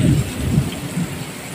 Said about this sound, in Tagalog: At dito sa may unahan, nalakas po ng bulwak ng ulan.